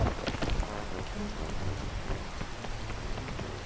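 Rain falls steadily onto nearby surfaces, a dense close patter of drops with a few louder splashes, and no voices.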